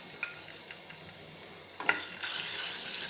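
Ginger paste for a potato korma dropped into hot oil, a few light clinks of a utensil against the pan, then a sudden sizzle that rises and holds steady, close and fairly loud.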